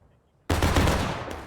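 Sudden burst of rapid gunfire in the video game HRE on the Piper Farm map, starting abruptly after a quiet moment and holding loud and dense for about a second before easing slightly.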